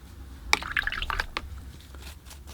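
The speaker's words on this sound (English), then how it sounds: "I rinse off my brush here, dry off some of that water." A paintbrush swished and rinsed in a water container during oil painting, giving a few short splashy drips and liquid squishes close by, with no talking.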